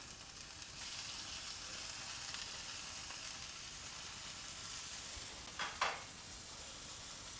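Burger patties sizzle steadily in a pan, a close, even hiss with brief louder bursts near the end, heard alone without talk.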